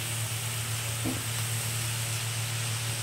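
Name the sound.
curdled yogurt added to frying spices in pan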